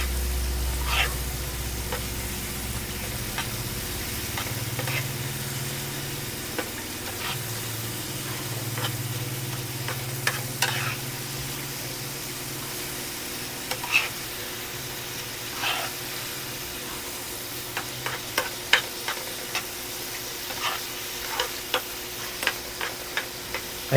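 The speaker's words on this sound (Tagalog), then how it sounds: "prinito ko na itlog with sardines." Eggs with sardines fry on an Astron Powerheat1 infrared cooktop, giving a soft steady sizzle with scattered sharp ticks and pops spread across the whole stretch, and no talking.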